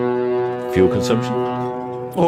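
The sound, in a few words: steamship horn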